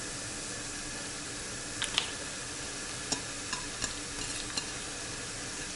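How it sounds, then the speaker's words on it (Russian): Chopped onion hits meat frying in a pan and gets stirred with a spoon: a steady sizzle throughout, broken by a few sharp scrapes and clicks. "Лук у меня нарезан, так что... начинаем его сюда"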